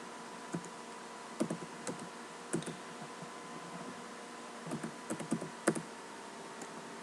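Computer keyboard keys tapped while writing Java code, sparse clusters of clicks and short bursts with pauses between, fairly quiet and close, no talking.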